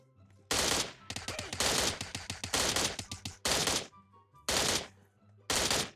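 Gunfire in PUBG Mobile rings out in loud, rapid automatic bursts of varying length, separated by brief quiet gaps, with faint game background between volleys.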